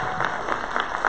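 A school event audience claps together in a short burst of steady, fairly loud applause, with scattered louder claps near the end and no speech over it.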